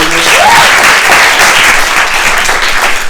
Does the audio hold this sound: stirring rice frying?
no